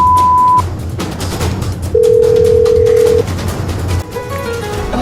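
A telephone tone sounds in short loud beeps, first a brief high one, then a sustained lower tone lasting over a second, then fainter tones, with a noisy background bed underneath.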